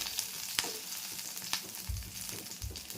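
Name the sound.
green chilies frying in hot oil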